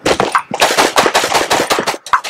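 Rapid automatic gunfire in a video game, loud and close, with bursts of shots crackling in quick succession, broken by brief pauses, and no talk over it.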